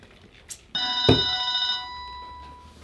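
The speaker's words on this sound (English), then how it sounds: "We're gonna make the phone stop ringing." A telephone rings once in a short electronic burst, loud and close, then decays away with no talk over it.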